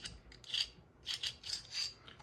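Rough rails on a Tara TM-9 rifle stock are sanded with 240 grit sandpaper, a quiet, close rasping in short back-and-forth strokes, about four of them.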